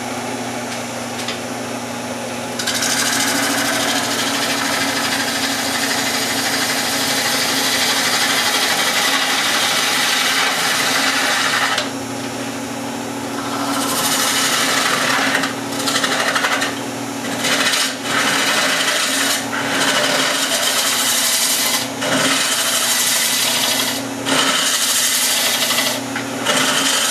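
A wood lathe turns a goblet while a sharp tool cuts it down to final dimension, giving a steady, close whirring hum with a rough scraping rasp that drops off briefly and resumes in choppy bursts.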